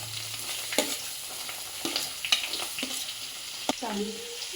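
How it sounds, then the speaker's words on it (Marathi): Chopped onion is tossed into hot oil already seasoned with ginger and garlic and stirred for ragda pattice. A steady sizzle runs throughout, with several sharp scraping clatters of a spoon against the pan. No one speaks. "आता त्याच्यात आपण घालणार आहोत कांदा हा जो कांदा चिरलेला आहे तो आपण त्याच्यात घालणार आहोत"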